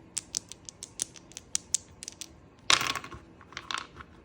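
Frozen produce pieces just out of a deep freezer, rattling and clicking against each other like small marbles: a run of crisp separate taps, then a denser clattering burst, close by with no talking.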